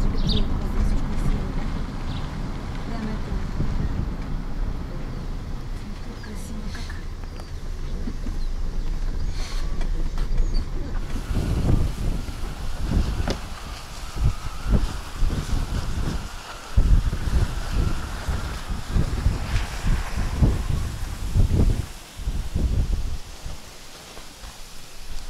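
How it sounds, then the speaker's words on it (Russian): Strong seaside wind roars and buffets the microphone in a steady, loud rush, growing gustier partway through, with large waves implied on an overcast, cold day; no talk is heard. "опять ветер такой, что сбивает с ног"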